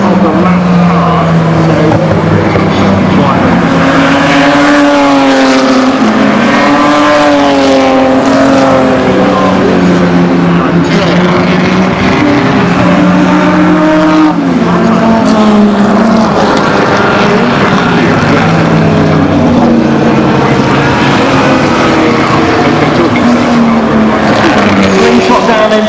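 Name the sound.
race cars racing at Goodwood Revival Kinrara Trophy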